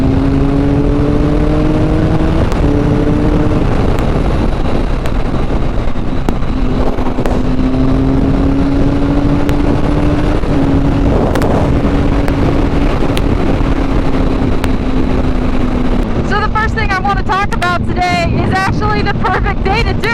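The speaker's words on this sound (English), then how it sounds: "how crazy the wind is when you're going at speed" Heavy wind roar buffets the microphone of a motorcycle riding at speed on a very windy day, a constant loud rush over the engine's droning hum, with a brief voice near the end.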